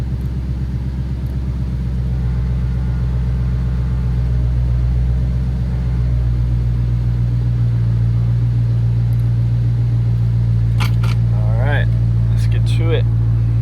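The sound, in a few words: Dodge Challenger Scat Pack 392 engine starting and running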